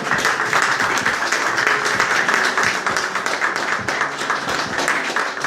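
Church congregation giving a loud, sustained round of applause, dense overlapping hand claps filling the room steadily throughout with no break.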